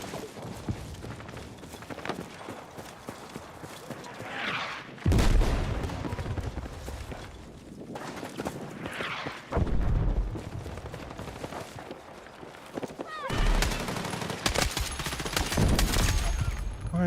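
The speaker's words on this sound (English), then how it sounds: "I was on semi-auto with an LMG." Light machine gun fire in Battlefield: loud rolling bursts of gunfire and booms in repeated waves, with surges of heavier firing and explosions, dense and continuous throughout.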